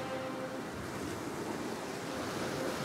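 Sea waves wash in a continuous, steady roar of surf with a faint layer of wind, filling the whole stretch evenly with no voices.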